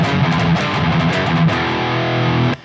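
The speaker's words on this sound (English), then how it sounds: "it's because I'm using a neural DSP plugin. It's the Soldano 100" An electric guitar runs through a Neural DSP Soldano SLO 100 amp plugin in 80s-style heavy metal practice, playing a fast distorted riff of chugging notes and chords, loud and saturated, cutting off abruptly at the end.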